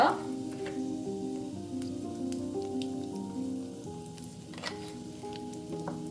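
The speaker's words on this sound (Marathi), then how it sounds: "आता ह्यामध्ये मी घालत आहे थोडं शहाजिरे हिंग" Caraway seeds and asafoetida sizzle steadily in hot cooking oil in a pan for methi dal, a close continuous frying crackle with a few utensil clinks.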